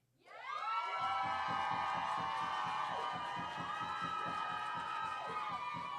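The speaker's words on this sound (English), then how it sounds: "Keep that round of applause going for Tino." A crowd at a poetry slam semifinal night erupts in loud, sustained cheering and whooping, with high excited voices and clapping filling the room after a performance.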